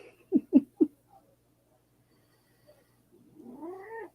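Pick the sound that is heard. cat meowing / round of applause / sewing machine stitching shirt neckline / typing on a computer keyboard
cat meowing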